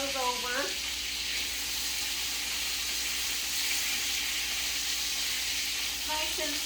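Chicken pieces fry in a skillet with a steady, close sizzle that holds throughout, and a voice briefly speaks at the start and end.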